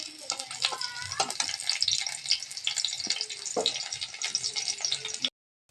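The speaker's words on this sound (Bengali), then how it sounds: "রসুন দিয়ে দেবো তেলের মধ্যে" Garlic hits hot oil in a pan while cooking pumpkin bharta, giving a close, dense crackling sizzle with some stirring scrapes. It runs steadily for about five seconds, then cuts to silence.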